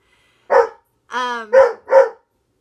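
A dog barks at its own reflection in a mirror, several short sharp barks up close with a drawn-out whining yelp in between, loud and alone.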